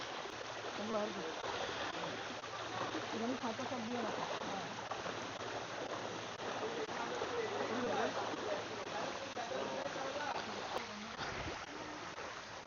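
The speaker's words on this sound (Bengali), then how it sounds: "পানির অনেক স্রোত" A strong stream current rushes along a hiking trail crossing, making a steady, close roar of flowing water while people talk over it.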